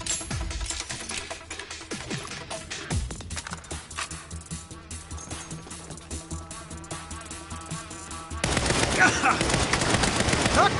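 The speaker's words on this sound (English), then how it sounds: "They're shooting at us!" Distant bursts of automatic gunfire in the Saints Row action game, faint crackling shots under game music and ambient effects, swelling louder near the end.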